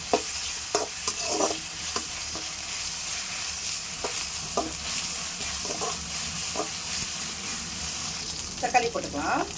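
Ginger and garlic sauté in a hot pan while egg semiya is being cooked, giving a continuous frying sizzle. Irregular stirring scrapes and clinks sound close by, with a rougher stirring flurry near the end.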